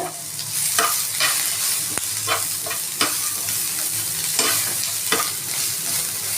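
Two tomatoes and coriander leaves fry in a little oil for Karnataka-style sambar, sizzling steadily under a series of distinct scraping stirs and a few sharp clinks of the utensil against the pan, with no one talking.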